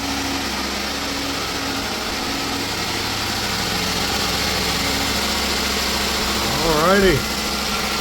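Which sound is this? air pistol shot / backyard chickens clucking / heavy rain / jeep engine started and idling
jeep engine started and idling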